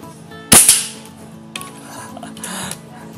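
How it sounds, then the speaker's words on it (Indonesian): A single sharp air rifle shot at 28 meters cracks loudly near the start, followed by a faint metallic ring and quiet handling noise. "Tembakan kedua."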